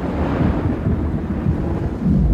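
A thunderstorm rumbles continuously with deep, dense low-frequency roaring and rain-like noise, loud and steady throughout without any talking.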